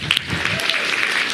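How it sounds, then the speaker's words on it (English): Audience applause for the candidates at a Rapid City mayoral forum, a steady wash of many hands clapping at close range through the whole moment, with a voice briefly audible over it. "round of applause for the candidates"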